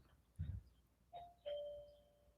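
After a soft thump, a doorbell sounds two chime tones, the second ringing out longer before fading, fairly quiet and alone.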